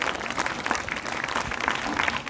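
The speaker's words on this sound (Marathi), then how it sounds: "त्याही मुलांचं आपण जोरात टाळ्या वाजवून अभिनंदन करूया" A crowd applauds steadily, a dense burst of clapping that stays strong for the whole stretch.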